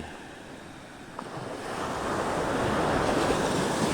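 Waves wash onto Legon Pari beach in the morning with a steady roar that swells louder partway through, mixed with wind buffeting the microphone.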